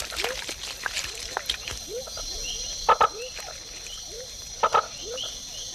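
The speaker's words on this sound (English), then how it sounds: "tiny frogs mate in very shallow pools at the foot of dipteryx and other trees" Tiny frogs call at shallow forest pools at the foot of dipteryx trees in Panama, giving short repeated chirps and clicks, with a few louder double notes standing out over a dense, steady chorus of insects.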